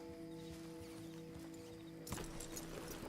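A horse in Red Dead Redemption 2 with a steady ambient game bed underneath, then a sudden burst of hoof clatter and rustling movement near the end, with no voices present.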